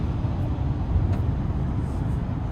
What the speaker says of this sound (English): I hear the tires, but it's not like overly intrusive